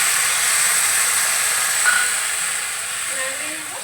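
Water poured into a hot pan of sautéed drumstick leaves and potatoes with spices and peanuts, giving a loud, close steam hiss that slowly eases off over a few seconds.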